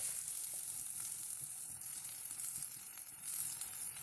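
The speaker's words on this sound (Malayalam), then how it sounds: "ഇനി ഇതിലേക്ക് 2 ടീസ്പൂൺ ഇഞ്ചി വെളുത്തുള്ളി പേസ്റ്റും ചേർത്ത് പച്ചമണം പോകുന്നവരെ 1 മിനിറ്റ് കൂടി വഴറ്റി കൊടുക്കണം" Ginger garlic paste sautéing with onions for Mughlai chicken handi, a steady soft sizzle with faint stirring scrapes running continuously and evenly throughout.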